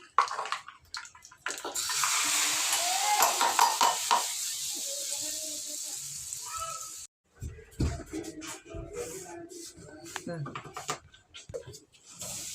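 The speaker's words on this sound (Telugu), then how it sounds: "అలాగే తాలింపు కూడా వేసేస్తున్నాం" Tempering spices hit hot oil with a loud, close hiss that swells and fades over several seconds, then cuts off. Scattered clinks and stirring noises follow.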